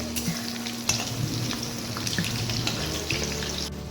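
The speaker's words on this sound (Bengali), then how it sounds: "আর একটা ওভেনে আলু ভাজা।" Steady frying sizzle of potatoes in a pan with intermittent stirring clatter, fairly close, continuing without speech.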